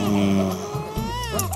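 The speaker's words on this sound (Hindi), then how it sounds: "ये तो बच्चे की रोने की आवाज है।" An infant wails in a thin, wavering cry that rises and falls in pitch, mixed with adult voices talking nearby.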